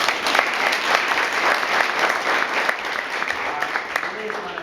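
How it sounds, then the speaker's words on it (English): Audience applause for a longtime student called up front, a steady, close round of clapping with a few voices mixed in beneath it. "Give her a round of applause"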